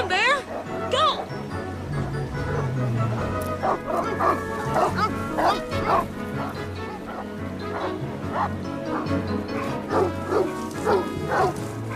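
Dogs in a drama film bark, yip and whimper in repeated bursts, fairly close and loud, over a low steady background, with some voices mixed in.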